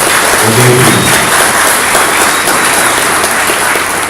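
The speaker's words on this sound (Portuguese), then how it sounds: "Então dá uma salva de palmas para você que está aqui" An audience at a Christian lecture applauds, a dense wash of clapping held at a steady level throughout, with a faint voice briefly underneath near the start.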